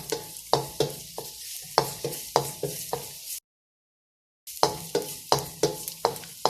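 Ginger and garlic stir-fried in oil over a high flame, quick rhythmic spatula scrapes against the pan over sizzling, close and bright, with a short silent gap partway through.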